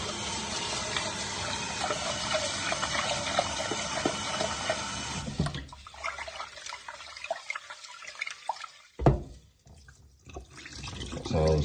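Long grain rice being rinsed in water, with a steady wash of running and sloshing water for the first five seconds, then quieter scattered drips, trickles and handling splashes close by.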